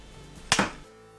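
A homemade 80 lb repeating pistol crossbow with a five-bolt magazine fires a bolt, giving one sharp snap and a quick thwack close by, then quiet.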